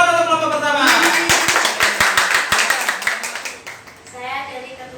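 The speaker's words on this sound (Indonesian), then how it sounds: "Tepuk tangan untuk kelompok pertama." Short burst of classroom applause from students welcoming the first discussion group forward, a scatter of sharp hand claps rising after a voice and fading into speech again.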